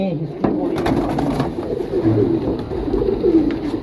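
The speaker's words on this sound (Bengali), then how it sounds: "এই খুব দুষ্ট কবুতর" Pigeons coo nearby in a loft in Mirpur, a steady stream of low, throaty calls that overlap one another.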